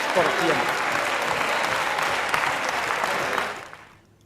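A large audience applauds steadily for a few seconds before the clapping fades quickly into silence.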